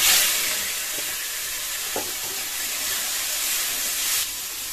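Panch phoron five-spice seeds dropped into hot oil left over from frying fish, giving a loud, close, steady sizzle and hiss with a few faint taps, no voices.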